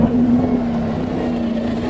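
A low floor bus engine revs loudly up close at a running day, a heavy droning growl with a steady low tone throughout.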